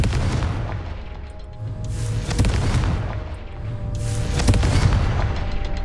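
Confringo fire spell in Hogwarts Legacy: two heavy booming blasts a couple of seconds apart, loud and close, each with a crackling fiery tail over a rumbling backdrop.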